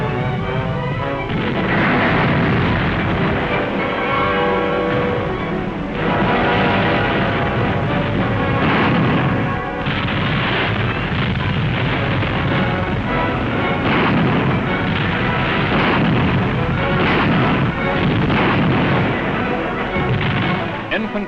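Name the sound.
heavy anti-aircraft artillery fire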